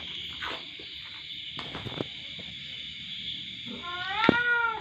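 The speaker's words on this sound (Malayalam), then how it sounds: "ഈ കിടന്ന് കരയുന്നത് എൻ്റെ പൂച്ചയാണ്" A kitten cries out nearby with several drawn-out meows and a loud, wavering yowl rising at the end, over a faint constant hum.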